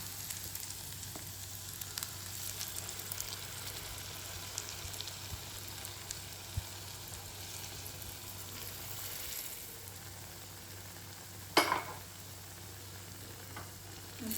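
Ground lentil paste frying and being stirred in a pan for Bengali dal puri, a soft continuous sizzle at low volume with a faint hum underneath and one sharp scrape of a spoon toward the end.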